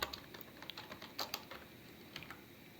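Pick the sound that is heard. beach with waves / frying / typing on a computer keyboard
typing on a computer keyboard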